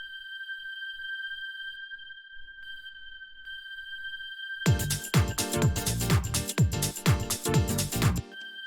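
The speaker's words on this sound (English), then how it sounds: "We'll put some reverb on it as well." A sustained synth tone hums alone, then bursts of bright, rhythmic synth hits ring out with lingering reverberant tails.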